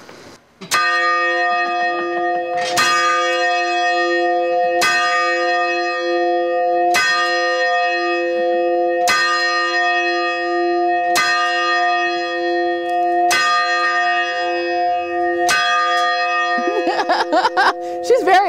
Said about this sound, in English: We have a bell that the whole world can hear, and I'd like you guys to ring it as loud and as proud